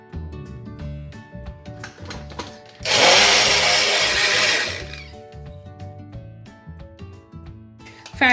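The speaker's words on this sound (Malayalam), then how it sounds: "ഇതും ഈ ലൈമും ഷുഗറും വെള്ളവും ചേർത്ത് നന്നായിട്ട് അടിച്ചിട്ട് ഇത് അരിച്ചെടുക്കുകയാണ്" Blender whirring loudly for about two seconds as it mixes passion fruit, lime, sugar and water for a summer drink, with quieter kitchen sounds before and after.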